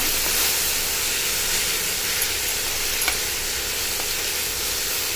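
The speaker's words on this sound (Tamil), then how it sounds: "வெங்காயம் பூண்டு தட்டி போட்டதை நல்லா வணக்கிக்கோங்க" Onion and crushed garlic sautéing in a pan for a drumstick gravy give a steady, close sizzle and hiss with faint stirring, continuous throughout with no talking.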